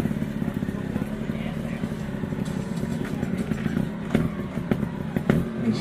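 A trials motorcycle at a Northern Ireland super trial event revs unevenly as the rider works through the gears on a steep step, a busy engine drone with sharp bursts near the end, under a commentator's voice.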